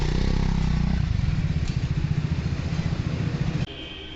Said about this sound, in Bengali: তোমরা শুধু বাইকের এক্সজস্টটা শুনো একবার, ডবল ব্যারেল এক্সজস্ট, সাউন্ড আলাদাই